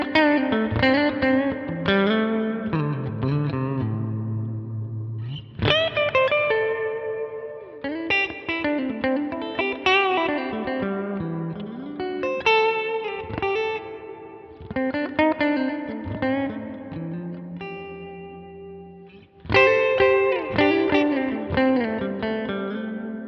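An electric guitar runs through a Line 6 Helix into a Princess cab miked with a ribbon mic, a dynamic hall reverb behind it. Chords and melodic phrases ring out in several bursts, each washing into a long reverb tail, with no talk.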